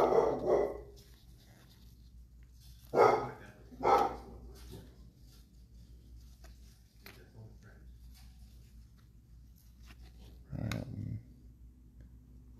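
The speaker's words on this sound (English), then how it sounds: "It's my neighbor's dog." A neighbor's dog barks several times in separate bursts, a couple of them close together, with quiet stretches between and faint talk in the background.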